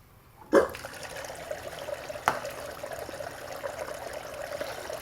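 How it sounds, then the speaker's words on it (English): Water runs steadily through a gold sluice box carrying dirt on a Southern California mining claim, starting with a sudden splash and settling into a continuous trickling flow with a brief louder gush midway. "So I'm gonna start up the sluice box, and we're gonna start running."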